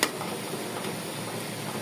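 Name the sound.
onions frying in a pan for fish roe fry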